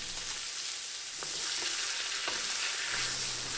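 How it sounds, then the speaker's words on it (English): Braised carrots with capers and ground pepper cook in a pan, giving a loud, steady, close sizzle with a few faint stirring knocks. "now I'm going to add the capers, a couple grinds of pepper, and then just cook everything for another minute or 2"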